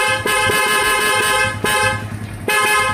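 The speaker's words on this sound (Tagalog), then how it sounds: "Busina." A Honda CB110 motorcycle horn sounds in loud, sustained blasts, broken by a few brief gaps and restarting near the end, with no talk over it.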